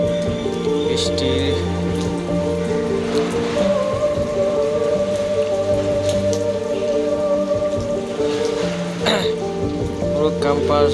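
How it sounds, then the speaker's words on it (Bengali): Heavy downpour pelts a university campus with a steady, dense patter of raindrops on hard surfaces, loud and continuous beneath a low, humming drone. "মুষলধারে বৃষ্টি পড়তেছে।"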